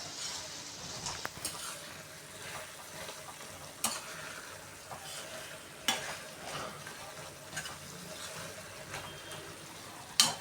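Bitter gourd stir-fry with jaggery being stirred in a pan, with a soft steady sizzle and scraping, and several sharper clicks of a spoon or spatula against the metal. No one speaks.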